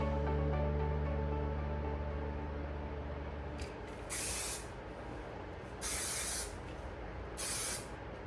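An aerosol can of hair product sprays in three short, loud hissing bursts at an even pace, each lasting about half a second, after a low humming opening and with no talking.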